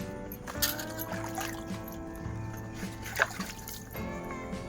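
Water runs and trickles faintly while leaves are rinsed to clean off soil before making patravade, a soft, continuous pour with small splashes and occasional louder drips.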